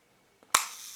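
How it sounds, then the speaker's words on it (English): A Nikon F film camera's shutter fires with a single sharp mechanical snap, preceded by a faint click and followed by a short whirring tail. "I can activate the shutter."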